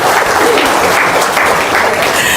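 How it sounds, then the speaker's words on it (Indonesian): Loud, dense applause fills the room steadily from start to finish, a close wall of clapping with no pause. "Tepuk tangan dong."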